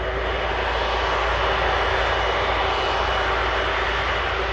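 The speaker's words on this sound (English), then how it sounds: "Feel the rumble in the tower from this Air Canada." An Air Canada jet at Manchester Airport gives a loud, close, constant roar and rumble from its engines, dense and unbroken for several seconds with no voices.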